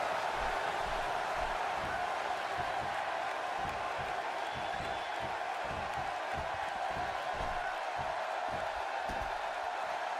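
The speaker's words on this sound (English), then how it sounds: "by the sound of this crowd, I think they're getting what they wanted" Game crowd noise from a WWE 2K16 wrestling match, a steady wash of arena cheering and murmur that holds loud and continuous throughout, with faint rhythmic thuds beneath it.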